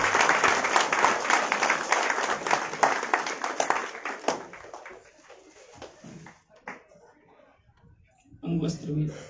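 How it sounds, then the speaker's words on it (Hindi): Audience applause at a free tablet distribution ceremony held by a management and technology institute, dense clapping that fades and thins out over several seconds, followed by scattered claps, then a short burst of renewed clapping at the end. "एक बार जोरदार ताली बजाएं।"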